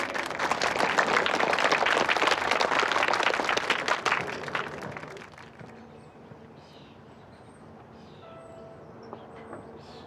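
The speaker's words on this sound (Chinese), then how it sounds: "掌声有请" Loud crowd applause and clapping at a televised contest, welcoming the last contestant back onto the stage, sustained for about five seconds and then fading into a quiet room.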